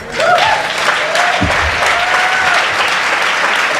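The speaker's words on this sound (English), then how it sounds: "Let's give him another big round of applause." An audience at a dinner celebration breaks into loud, dense applause that carries steadily for a few seconds, with a few faint voices in the room.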